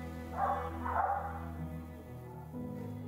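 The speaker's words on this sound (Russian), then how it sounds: "Всего-то мелкая свора дворняк без имени и хозяина" A small pack of stray mongrel dogs bark in the snow outside a kitchen window in the horror game Tiny Bunny, a couple of muffled, distant barks over a steady droning musical background.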